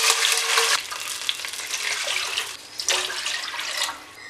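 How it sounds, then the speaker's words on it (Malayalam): Water being poured into a cooking pot while making Manjali biryani, a steady rushing splash with a hiss, running almost the whole time in two bursts with a short break between them, close and loud with no talking. "ഇതിലേക്ക് നമുക്ക് ആവശ്യത്തിന് വെള്ളം ഒഴിച്ച് കൊടുക്കാം"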